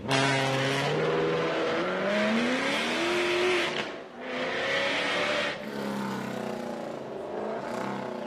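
Rally cars at a stage of the Wairoa rally, with a Mazda MX-5 rolling away. Loud, close engine revving climbs and falls in pitch through the gears, dips briefly, then another engine drones on steadily with no one speaking.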